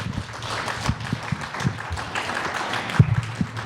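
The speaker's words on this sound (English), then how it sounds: "Round of applause for that song." An audience applauds after a song, steady scattered clapping, moderately loud and fairly close, with a few sharper claps standing out and no talk over it.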